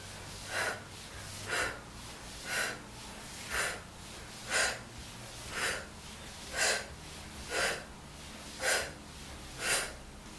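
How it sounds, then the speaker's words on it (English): Heavy rhythmic exhalations during an abs workout with a mini band, about ten sharp, forceful breaths spaced roughly one second apart, close and alone. "We're breathing."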